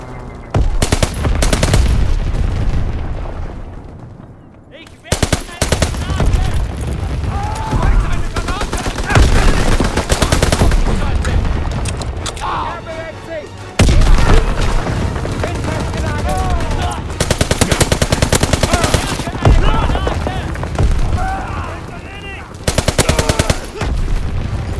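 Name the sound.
anti-aircraft gunfire in the video game Call of Duty: WWII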